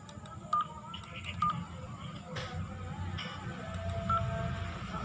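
Short electronic keypad dialing beeps from a simulated VoIP telephone in Cisco Packet Tracer, three tones spaced a couple of seconds apart over steady low background hum, with no talking.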